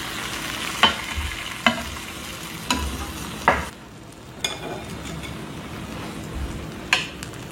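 A thin rolled egg omelette frying on low heat in a moderately hot pan gives a steady soft sizzle, broken by several sharp scraping or tapping spatula sounds, close up with no talking.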